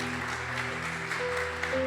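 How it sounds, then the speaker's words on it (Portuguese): A congregation applauds during a church service, a steady wash of clapping throughout with sustained musical tones beneath it. "Vamos aplaudir Jesus em forte."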